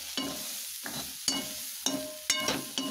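Masala for a goat liver dish sizzles in a pan while a spoon stirs it in regular scraping strokes about every half second, with a soft continuous frying hiss underneath, close and quiet.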